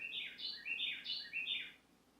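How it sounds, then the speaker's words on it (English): Birds living outside an apartment chirp in three quick bright bursts of rising and falling tweets, faint and somewhat distant, with no talk during the calls. "there are birds that live outside my apartment"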